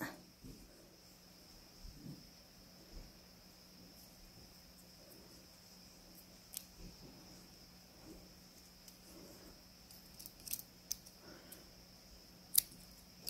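Scissors snip the yarn ends on a small crocheted axolotl fidget toy, a few faint, sparse clicks spread over a quiet background with no talking.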